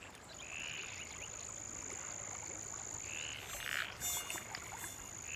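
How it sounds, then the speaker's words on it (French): Frogs croak faintly at a temporary pond, with a few distant calls over a constant high insect buzz and soft outdoor background noise. "la mare temporaire est le seul refuge des grenouilles et des insectes"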